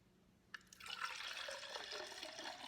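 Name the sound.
vinegar being poured into a cup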